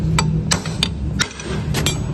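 A hammer taps a loose CVT cover on a Yamaha Soul GT scooter, about six sharp metallic knocks at an uneven pace, close over a low background hum.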